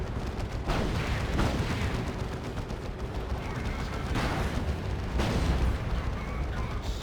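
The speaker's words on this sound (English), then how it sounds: "The Vanquisher Cannon's supposed to be an anti-vehicle weapon, but it's actually surprisingly effective against infantry as well." In Dawn of War 2: Retribution with the Elite mod, a Vanquisher Cannon on a Leman Russ tank fires amid battle, its heavy booms landing at intervals over a constant din of combat.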